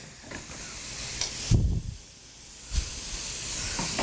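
Wine and orange juice hit a very hot pan with bursts of loud, close hissing steam that fade and then surge again, with low thumps in between.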